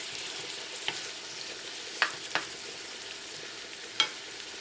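Tomato and transparent onion frying in a pan for Jamaican callaloo, with a soft steady sizzle and a few sharp spoon scrapes and clicks as the mixture is stirred.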